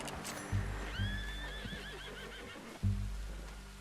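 A horse in Red Dead Redemption II lets out a loud, clear whinny that rises and trails off in a wavering series, with heavy low thuds from hooves or impacts around it.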